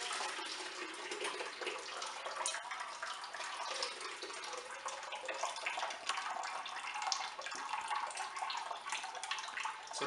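Liquid marinade for curing Polish ham, strained free of spices, pours in a steady, continuous splashing stream that stays even and close throughout, with no talking.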